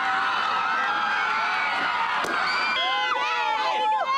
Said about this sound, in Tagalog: sa gitna ng hiyawan at palakpakan ng libo-libong fans